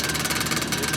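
The compressor of a 1956 General Electric High Thinline window air conditioner runs in a smooth, steady mechanical hum with a faint rhythmic pulsing, heard up close and alone.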